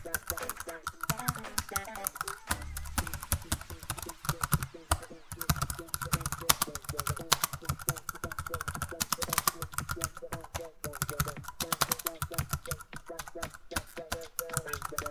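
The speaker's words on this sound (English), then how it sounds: "Let us type it fast." Rapid typing on a computer keyboard, a dense, steady run of quick clicking keystrokes close up for the whole stretch, with soft speech-like sounds faintly underneath.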